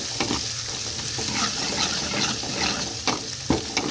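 Ginger paste being fried and stirred for chicken curry, a steady close sizzle with scraping strokes of a spoon through the pan, with no voices.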